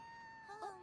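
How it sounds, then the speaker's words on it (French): A cat stuck up in a tree gives a short, thin meow, tonal and wavering, rising near the end, fairly close and alone without talk. "c'est mon chat Coco, il est coincé dans cet arbre et il ne peut pas redescendre"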